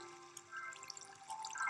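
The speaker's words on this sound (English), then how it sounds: "This is a lot of water" Minecraft water flows in a modded survival game, a soft steady trickling wash with a faint tonal hum, quiet and continuous with no talking.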